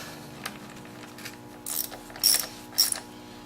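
A ratchet wrench clicks briefly as it tightens bolts on a Honda Civic D15B/D17A engine during a timing-belt job, heard as a few short, close ratcheting bursts over a steady low hum.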